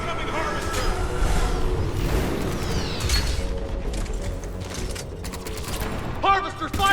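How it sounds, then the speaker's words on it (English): A Reaper harvester fires in Mass Effect 3 amid heavy combat, with loud sustained bursts of booming fire, mechanical clatter and rumbling explosions over seven seconds, and voices buried in the din. "Harvester firing on the Turians!"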